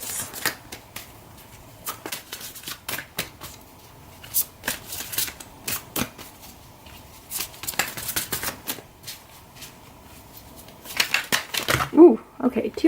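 Tarot cards riffled and shuffled in quick bursts of crisp papery flutters and slaps, close and clear, with brief pauses between runs and a voice speaking near the end.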